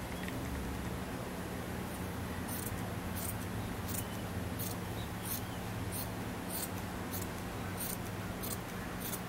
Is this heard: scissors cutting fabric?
yes